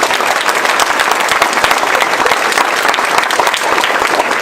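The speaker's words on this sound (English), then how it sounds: "I talked too fast for applause there." Loud, close applause from an audience at a political speech, continuous rapid clapping with crowd noise, no speech over it.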